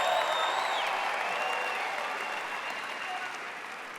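Steady applause from a large commencement audience honoring graduates' family and friends, dense clapping that slowly thins over four seconds in a big hall.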